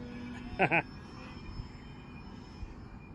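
An RC model Cub airplane flies overhead during an inverted roll, its small engine a faint steady drone in the distance, with a brief louder chirp near the start.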